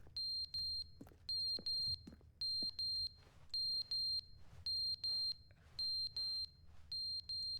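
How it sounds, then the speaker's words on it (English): In The Stanley Parable video game, an electronic alarm beeps in regular rhythmic bursts of high piercing tones, repeating steadily in pairs with short gaps, fairly quiet against a low background hum. "I don't know what that beeping is."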